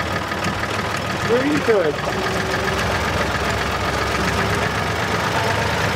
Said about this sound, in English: This is a 3-cylinder engine, synchro mesh gearbox.